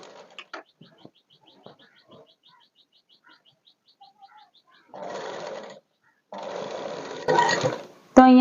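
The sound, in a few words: sewing machine stitching a dress slit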